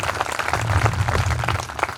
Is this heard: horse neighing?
no